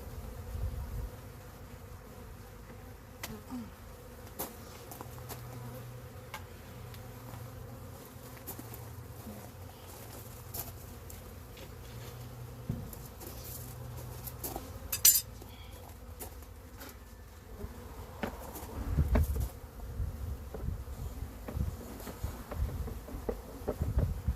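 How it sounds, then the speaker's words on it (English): Honey bees buzz around an open beehive with robbing screens and an escape board, a faint continuous drone with scattered clicks and knocks of hive parts being handled nearby. "there were still too many bees up in the top box"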